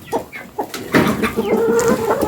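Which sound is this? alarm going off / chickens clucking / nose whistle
chickens clucking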